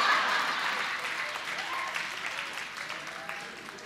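Audience applause from a comedy show crowd, a dense steady clapping that starts loud and slowly thins and fades over a few seconds.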